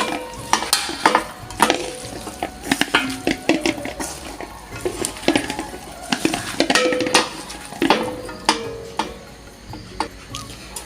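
Small fish being mixed by hand with turmeric, chili, salt, onion, paste and oil in a bowl, a close sequence of wet squelches, taps and clinks in an irregular rhythm, with no talking.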